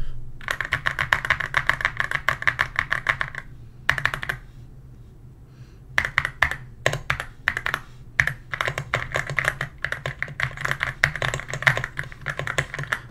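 Keys clatter on a computer keyboard in quick bursts of clicky strokes, close to the microphone, broken by short pauses and typed unevenly with one hand rather than at a natural rhythm.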